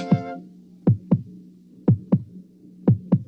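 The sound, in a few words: Kenner Baby Heartbeat toy heartbeat sound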